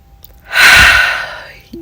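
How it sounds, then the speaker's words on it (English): A single deep breath taken in and slowly let out, close to the microphone, loud and airy and lasting about a second, with a brief voiced sound at the end. "just take a breath with me"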